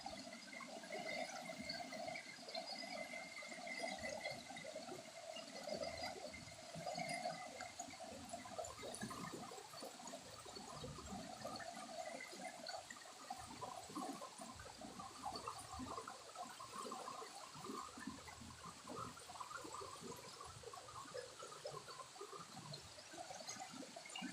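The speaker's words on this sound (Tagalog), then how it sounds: "Lakas na ng agos sa tubig." Strong river current rushing during a flood, a steady loud wash of churning water close by, continuous and unbroken with no voices.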